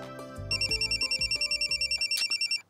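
A telephone ringtone plays a rapid repeating electronic pulse, preceded by a brief melodic tone sequence, loud and close with no voices until it cuts off abruptly.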